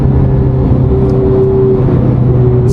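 A high-mileage Ferrari 458 engine drones loud and close while driving, with a steady low hum and slight pitch shifts and no voices over it.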